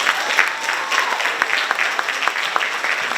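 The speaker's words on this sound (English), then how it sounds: "if you could give another round of applause for all 3 of our presenters" An audience applauds, with many hands clapping at once in a sustained, lively burst of sharp claps that fills the room.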